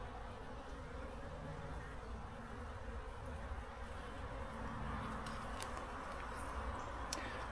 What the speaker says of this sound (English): Lots of bees, very busy.